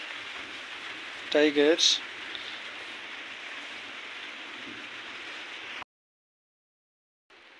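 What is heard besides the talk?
rain falling in mountain forest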